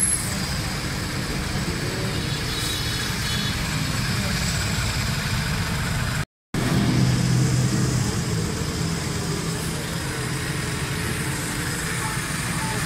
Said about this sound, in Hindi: ये देखें गाड़ी मैंने स्टार्ट कर दी है